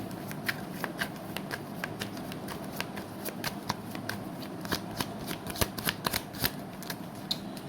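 Tarot cards being shuffled close by, giving a steady run of quick papery flicks and snaps with no talk over them.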